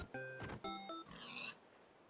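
Several short, nasal pig oinks from a Minecraft-style video game, a few quick grunts in a row, close and clear with no talking over them.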